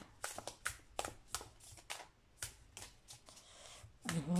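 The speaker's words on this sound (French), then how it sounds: "C'est la toute première fois que je le brasse." A new Slavic Legends tarot deck is shuffled by hand in a quiet room, giving a series of soft, crisp riffling bursts and card slaps spaced irregularly over several seconds.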